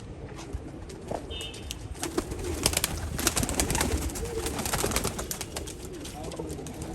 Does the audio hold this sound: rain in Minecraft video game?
no